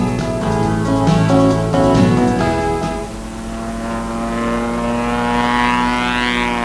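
Small propeller airplane on a circling takeoff, a loud steady droning engine with a strong buzzing hum that shifts in pitch as the aircraft turns, heard alone without talk.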